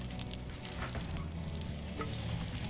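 Food frying in a cooking scene from the game Stranded: Alien Dawn, a steady close sizzle with faint crackles and stirring, heard alone without speech.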